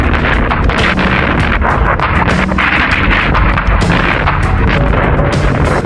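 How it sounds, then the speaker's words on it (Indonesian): Heavy artillery fire booms repeatedly in a dense, continuous barrage from sea and land, with rumbling blasts overlapping one another at high volume. "dibombardir dan ditembak dengan meriam dari laut dan darat"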